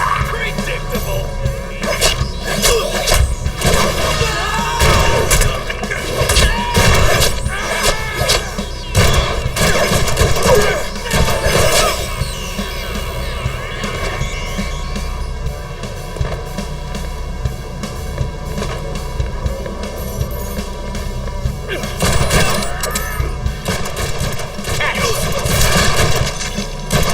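Sustained rapid gunfire from the Deadpool video game on PS3, dense bursts and shots layered with impacts across half a minute, loud and continuous, with voices speaking over the action.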